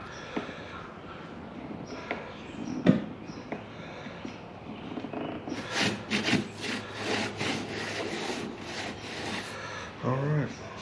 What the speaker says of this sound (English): I never use a more aggressive grit on a plastic bumper than 180.